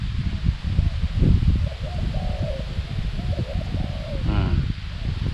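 A spotted dove in training coos in short, repeated phrases, moderately close, over constant low rumble and rustling, with a brief sharper call near the end.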